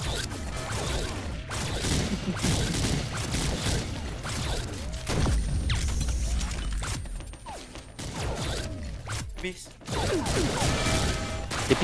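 Rapid bursts of gunfire in the video game Mission Against Terror 2 crackle throughout a bomb match, mixed with mechanical clanks and clatter, while voices talk over the action.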